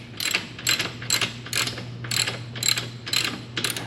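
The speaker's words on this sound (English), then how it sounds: "Tightening the last bolt" A ratchet clicks through about eight steady strokes while tightening the last bolt on a custom CNC platform for compressors, close and distinct over a low hum.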